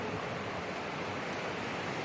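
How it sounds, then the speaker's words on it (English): Strong wind and rain roar outdoors as a dense, steady wash of noise, loud and continuous with no voices. "I mean, it is so windy right now"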